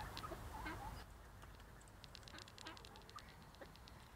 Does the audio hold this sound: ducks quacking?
yes